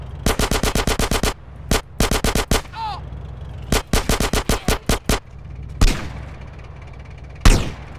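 Video-game gunfire in GTA: rapid bursts of automatic shots fire in quick clusters, broken by short pauses, then two single heavy blasts near the end, loud and close with no talking.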